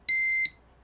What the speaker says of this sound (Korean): 찡찡 하는 소리 들리죠? 이렇게 알람이 있다고 오는 겁니다.